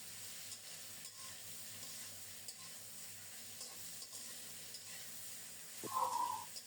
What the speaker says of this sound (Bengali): নেড়ে চেড়ে কিছুক্ষণ আলুটাকে ভেজে নিচ্ছি